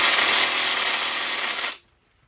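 A Ryobi power tool runs steadily at close range on an engine's crank pulley during teardown, a loud continuous whir that cuts off abruptly near the end.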